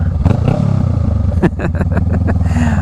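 A Honda Rebel 500 motorcycle fitted with a Shorty GP exhaust rumbles up close, its loud throbbing engine note running through the whole clip with a few sharp pops and clatters.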